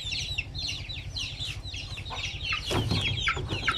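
Basilan native chickens cluck nearby in short, repeated calls over a low background rumble, with a louder burst of clucking near the end.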